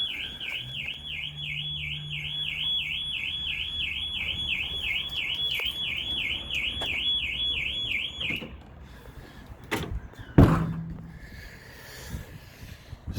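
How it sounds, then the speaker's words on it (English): A Ford van's alarm wails in a steady, rapidly warbling siren for about eight seconds, then cuts off, followed by a sharp clunk and some faint handling noise. "there goes our alarm"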